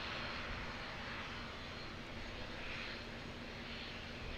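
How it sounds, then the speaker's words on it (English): An American Airlines jet airliner in blue livery departs Auckland Airport, its engines giving a steady, broad roar that holds evenly throughout without any talk. "this is the last of the big three American Airlines to depart."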